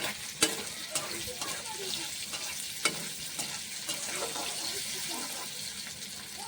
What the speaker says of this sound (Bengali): এখানে পনির ফ্রাই করে নিচ্ছি